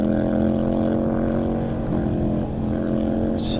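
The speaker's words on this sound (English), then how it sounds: "Had some issues with the engine earlier, and it sounds like that same issue has kind of crept in a little bit on this bike." Racing motorcycle on the El Mirage dry lake course, its engine holding a steady, loud, continuous drone with a suspected lingering engine fault, no speech over it.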